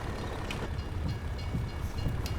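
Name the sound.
train passing in Farming Simulator 22 video game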